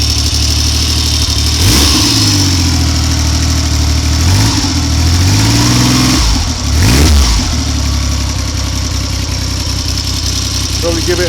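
A Triumph Trident three-cylinder motorcycle, fitted with old Amal carburettors, runs loud and steady after a cold start, idling with a couple of brief throttle blips that rise and fall.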